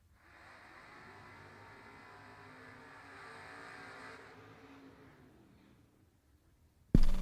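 A first-generation Camaro race car drives on a vintage racing track, its engine a steady distant drone that swells and then fades away, before a sudden loud knock at the end.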